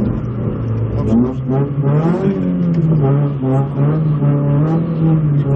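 An Opel Corsa GS rally car at full throttle during a rally sprint, its engine note rising and holding in a strained, buzzing howl heard from inside, with a voice calling out over it.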